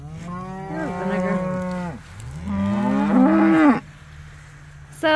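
Cows mooing close by, two long drawn-out lows one after another, loud and resonant, followed by a brief rustle.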